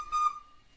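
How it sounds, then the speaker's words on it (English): A young girl playing in a princess castle play tent gives one short, clear whistled note that fades quickly into quiet. "she's whistling"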